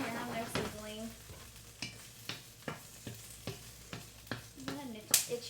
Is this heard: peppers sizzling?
yes